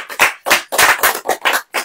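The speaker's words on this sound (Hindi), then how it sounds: "ताली नहीं बजाएंगे?" An audience at a Hindi church sermon claps in bursts, several loud broadband rounds of clapping in quick succession, close and dense, with short gaps between them.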